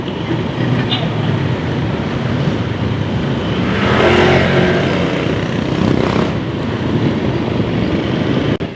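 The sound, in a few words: motorcycle riding on the road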